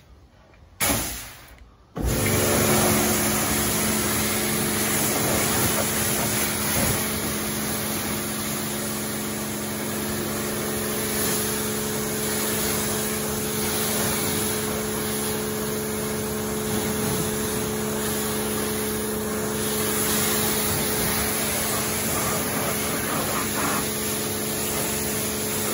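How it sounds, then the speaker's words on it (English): An Earl HD623 hot pressure washer with a standard lance and 25-degree nozzle rinses down a vehicle, giving a loud, steady hiss of spray with a constant motor hum underneath after a short start. "I'm now going to rinse it off using the standard Earl lance, which comes with a 25 degree nozzle as standard"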